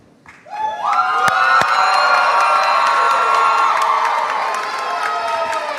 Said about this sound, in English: Give me your roar.